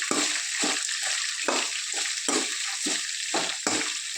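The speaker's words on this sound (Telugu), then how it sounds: "బాగా వేగనివ్వాలి ఈ దీన్ని 2 minutes." Onions and garlic cloves fry for chirraku fry in a pan with a steady bright sizzle, broken every half second or so by the scrape of stirring.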